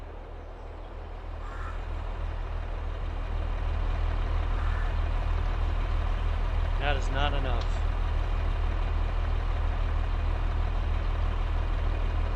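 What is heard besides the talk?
tractor engine in Farming Simulator 22 video game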